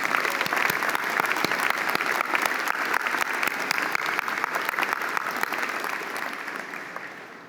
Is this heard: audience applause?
yes